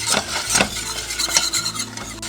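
A trout patty mixture cooking in a pan while a utensil stirs and scrapes it, giving repeated close scraping strokes over a faint sizzle, with no voices.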